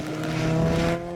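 A race car roars past at the Kirkistown finish line during a 500 Motor Racing Club race meeting, a loud sustained engine note with a steady tone, swelling and then easing off near the end.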